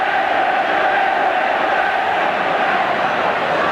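A big stadium crowd roars and cheers without pause at a 1990 Great Britain versus Australia rugby league test match, a loud, dense wash of voices carrying on for the whole stretch.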